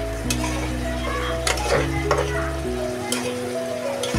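Eggplant curry sautéed in a pan, a continuous sizzle with several sharp scraping and stirring clatters of a utensil against the pan, no talking.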